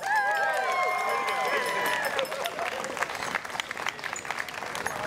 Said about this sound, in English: a round of applause for Helen